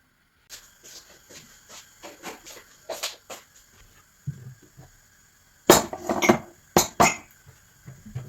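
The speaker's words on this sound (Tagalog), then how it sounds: "Lalagay ko muna yung mga hinugasan ko ng mga plato tsaka baso." Washed plates and glasses clink and clatter as they are put away, sharp knocks of ceramic and glass coming in irregular bursts with short quiet gaps, loudest near the end.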